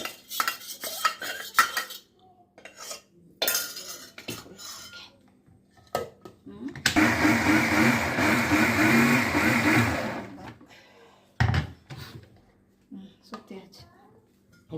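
A mixer grinder whirs loudly for about three seconds as it blends ready-ground wheat flour dosa batter, set among clinking utensils and a person talking before and after.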